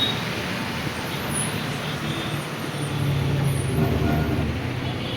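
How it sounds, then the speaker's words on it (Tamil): Heavy road noise and a low truck rumble fill a highway drive, with two container trucks moving ahead, a steady broadband roar from inside the vehicle. "நமக்கு முன்னாடி ரெண்டு கண்டெய்னர் போகுது கண்டெய்னர் வண்டி"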